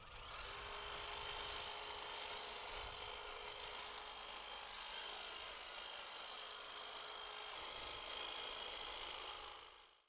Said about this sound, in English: Makes a lovely job of cutting the hedge.